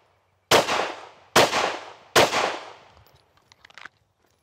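Three sharp handgun shots fired one-handed ring out at an even pace, each loud and close with a ringing decay, followed by faint clicks and rattles.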